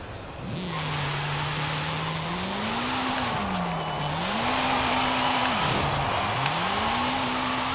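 A 670-horsepower 2001 Acura Integra Type R with an AWD drift tune slides through a Forza Horizon 5 run, its engine droning loud and steady as revs swing up and down between shifts, with tire squeal beneath, no talk.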